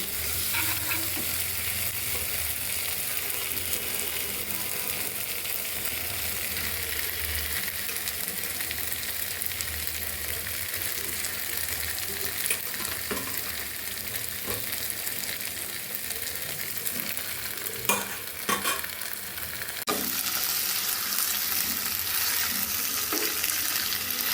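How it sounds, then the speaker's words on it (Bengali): Fried chicken pieces go slowly into a sizzling spice paste for a Bangladeshi-style chicken roast, making a loud, steady crackle that runs throughout, with stirring scrapes and a few sharp clicks near the end. "এখন আমি এর মধ্যে আস্তে আস্তে করে ভাজা চিকেনগুলো অ্যাড করে দেবো"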